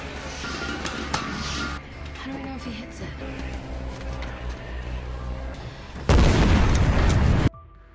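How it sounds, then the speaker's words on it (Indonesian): Loud explosion boom in a zombie film, a dense burst near the end that cuts off abruptly after rumbling effects and music. "Ketika berhasil keluar dari tempat Andy, ternyata ledakan tersebut sama sekali tidak bisa menghentikan para zombie untuk mengejar."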